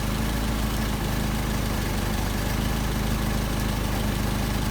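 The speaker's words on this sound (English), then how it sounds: "This is where the idle is the best running." A car engine fitted with a two-barrel Solex carburetor idles steadily and smoothly after the idle mixture is set to its best point, a loud, close, continuous low rumble with no talk.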